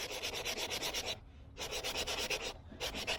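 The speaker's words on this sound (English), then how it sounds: "I really like these sanding blocks" A fruitwood spoon is sanded with a sanding block in quick back-and-forth rasping strokes, close and crisp, in two bursts broken by brief pauses.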